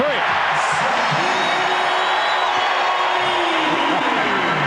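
Basketball arena crowd roaring and cheering during an NBA game, a loud continuous wash of noise with whoops rising and falling, while a commentator's voice runs over it.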